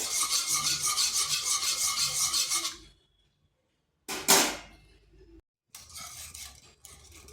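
Milk powder and water being stirred in a pan, a rhythmic scraping rub for several seconds, then a pause, a louder clattering scrape, and softer stirring again.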